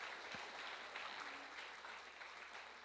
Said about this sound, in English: So please give warm applause for Ma'am Sandy.